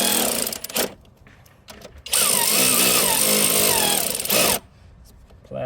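Power drill running in short bursts on a plastic part while doing an oil change on a Dodge Durango GT AWD 3.6L, with a brief whir, then a longer, steady, loud run of about two and a half seconds, close by.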